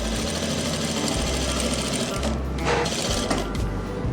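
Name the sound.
sewing machine stitching a frock seam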